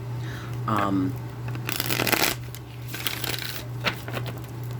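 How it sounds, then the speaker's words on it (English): Tarot cards shuffled in bursts of riffling and sliding, fairly close, over a steady low hum, with a brief voice at the start. "I'm going to shuffle a few times"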